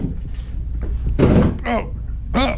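The door of a Pontiac Grand Prix G-body car is tried and opened, giving a couple of muffled thunks and clunks close by while people talk over it.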